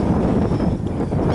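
Wind at the beach on a cold, chilly day buffets straight into the microphone, a loud, steady, low rumble with no voices.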